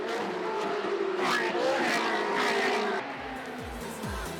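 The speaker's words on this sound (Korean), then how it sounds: "차들은 마지막 속도를 올린다." Race cars at the end of a race in the United Arab Emirates, speeding up with a loud continuous engine roar. Two quick pass-bys follow near the end, all under a voice talking.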